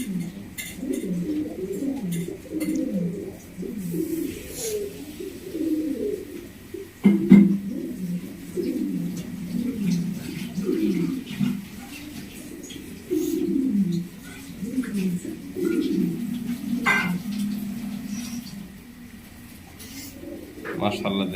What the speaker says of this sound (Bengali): দেখেন কত ভালো কবুতর, একদম নতুন কবুতর বিটিং শুরু করে দিছে